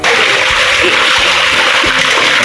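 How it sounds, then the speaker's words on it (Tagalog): Water poured into a deep well pump to prime it, a loud continuous splashing gush close by, with no voices. "tapos lalagyan mo ng tubig dito"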